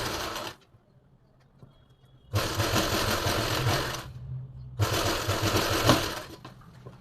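An electric sewing machine stitches a pleated suit in two long, steady bursts of whirring, separated by a quiet pause, close and loud, with a short run ending at the start.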